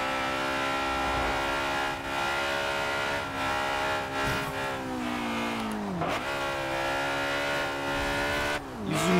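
A Honda S2000 Fast & Furious Edition races in Forza Horizon 2, its engine droning loudly and continuously with rising and falling revs and brief dips between gear shifts.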